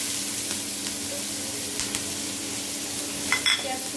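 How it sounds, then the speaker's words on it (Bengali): Chopped onions frying in very hot oil: a steady, close sizzle holding throughout, with a few faint clicks of stirring near the end and no talk. "তেল একটু বেশি তাপে গেছে, তো এরপর দিয়ে দিচ্ছি পেঁয়াজ"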